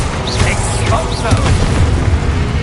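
An explosion spell goes off in a fantasy video game, a loud, dense blast that rumbles continuously with layered crackling and a hint of voice underneath.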